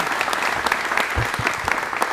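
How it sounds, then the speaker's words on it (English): A crowd at a fire station rededication ceremony in San Diego gives warm applause for the fire rescue chief, a full, steady burst of clapping close by. "please give a warm round of applause for our Fire Rescue Chief"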